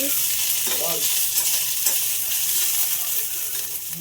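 Potatoes frying in a pan make a continuous close sizzle, with occasional light scraping and clinking from stirring throughout.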